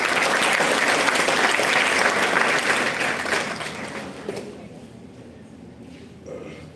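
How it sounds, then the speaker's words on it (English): Audience applause at an International Women's Day celebration, loud and sustained for about four seconds before thinning out and fading to scattered claps. "Can we have a round of applause?"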